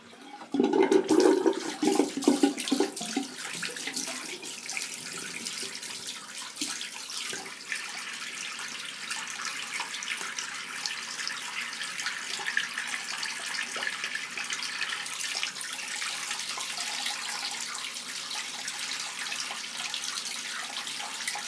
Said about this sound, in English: Just run out the old water and get some fresh.